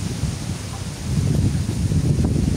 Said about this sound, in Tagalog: sobrang lakas talaga yung hangin